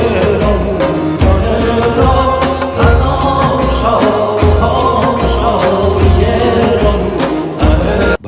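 Dense ensemble music in ancient Iranian modes, sung with Middle Persian lyrics, full and loud throughout with steady low drumming and sharp percussive accents recurring every second or so, no talking.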